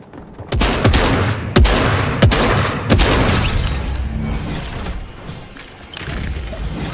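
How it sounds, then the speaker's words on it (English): An auto shotgun fires rapidly in a video game, several loud booming blasts in quick succession followed by a rumbling, noisy tail of game sounds. "I have to use the auto shotgun boost."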